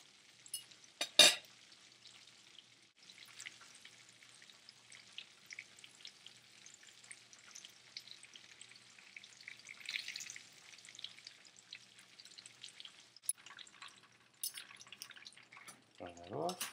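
Shrimp deep frying in hot oil: a faint, continuous bubbling crackle runs throughout, with a sharp clatter near the start and a few clunks and handling noises toward the end.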